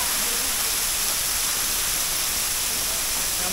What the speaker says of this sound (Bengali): কি পরিমাণ ঝর্ণা!